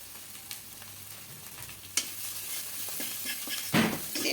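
Biryani masala with ground turmeric and chili powder stirred and fried in a pan for hilsa biryani: a steady soft sizzle broken by scraping spatula strokes, with a louder stir near the end and no voices.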